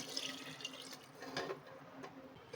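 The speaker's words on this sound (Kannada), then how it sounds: "ಇದಕ್ಕೆ 1 ಗ್ಲಾಸ್ ಅಷ್ಟು ನೀರು ಹಾಕ್ಕೊಳ್ತಾ ಇದ್ದೀನಿ" Water from a glass poured into mutton curry in a home kitchen, a soft gurgling trickle with a couple of brief splashy surges, fairly faint and without talk.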